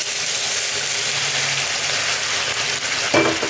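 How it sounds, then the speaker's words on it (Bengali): Sautéed chicken sizzles steadily in a hot pan, then water splashes in near the end and sets off a brief, louder burst of hissing. "মাংসটা আমার কষানো হয়ে গেছে এবার আমি জল দিয়ে দেব"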